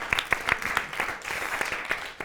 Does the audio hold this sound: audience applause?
yes